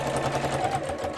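An old sewing machine stitching fabric, a continuous even mechanical whirr with fast rhythmic clatter, close and steady throughout a very short burst.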